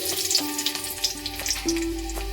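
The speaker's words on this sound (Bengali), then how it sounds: "তেলটা আমার গরম হয়ে গেছে এবার আমি এতে ফোড়নে দিচ্ছি দিচ্ছি খানিকটা রসুন কুচি" Chopped garlic sizzling as it hits hot mustard oil in a kadai, a steady close crackle with faint stirring bursts and a soft tonal hum beneath.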